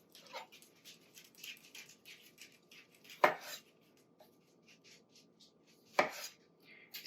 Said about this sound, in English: Halve the tomatoes.